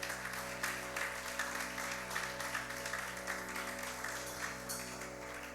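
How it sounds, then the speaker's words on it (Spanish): Church congregation applauds during a sermon by an evangelical pastor, a moderate wash of clapping in a reverberant hall over a steady electronic hum, fading slightly toward the end. "Dale un fuerte aplauso a Dios."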